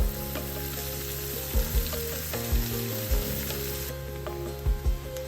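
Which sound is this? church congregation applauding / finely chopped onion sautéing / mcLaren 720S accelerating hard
finely chopped onion sautéing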